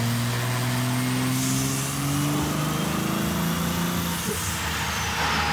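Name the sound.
Cummins diesel truck engine, possible blown head gasket or downpipe leak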